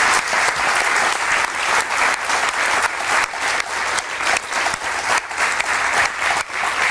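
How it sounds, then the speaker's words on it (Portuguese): A theatre audience at a magic show applauds loudly and continuously, a thick wash of clapping that holds steady from start to finish with no speech over it. "Um aplauso para eles, são fantásticos."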